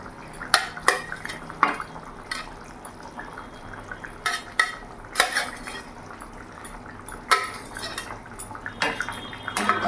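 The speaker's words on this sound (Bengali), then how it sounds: "এবার আমি ভেজে রাখা মাছগুলো এক এক করে ছেড়ে দেবো" Fried rohu fish pieces go one by one into a simmering potato and cauliflower curry, with scattered clinks and knocks of a utensil against the pot over a soft bubbling background.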